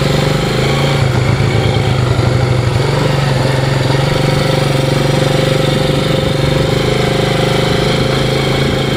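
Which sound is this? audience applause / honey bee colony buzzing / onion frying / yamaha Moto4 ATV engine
yamaha Moto4 ATV engine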